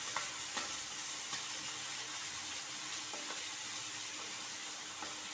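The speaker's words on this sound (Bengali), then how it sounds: "সবগুলো সবজি একসাথে মিশিয়ে নেব।" Vegetables for vegetable pasta, including carrot, stirred and fried in a pan: a soft, steady sizzle broken by a few light clicks of a spoon against the pan, fairly quiet and without speech.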